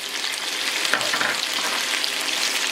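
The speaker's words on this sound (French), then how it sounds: "On pense à gratter donc les oignons qui commencent à caraméliser." Sliced onions with added sugar sizzle steadily in a pan over medium heat as they caramelize, a close, continuous frying hiss with occasional scraping and stirring.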